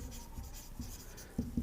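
Chalk or marker strokes on a classroom board, a few faint scratchy taps and short scrapes at irregular intervals in a quiet room.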